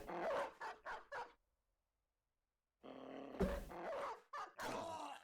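Several dogs in the video game Battle Brothers bark and yip in short bursts, a quick cluster followed by a pause and then louder, denser barking and growling alongside combat sounds.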